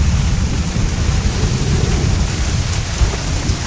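A kalbaisakhi thunderstorm in eastern India pours heavy rain, heard as a loud, steady, dense roar of rainfall with deep rumbling underneath and no voices.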